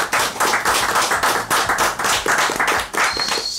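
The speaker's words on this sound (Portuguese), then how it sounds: "Uma salva de palmas aqui, por favor." Studio hosts clap for guests from a heavy metal band, a handful of close, loud, rhythmic handclaps repeating steadily with no talk over them.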